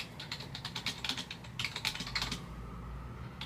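Rapid clicking keystrokes on a computer keyboard form a steady, moderately close run of taps, with a brief pause partway through before the typing resumes.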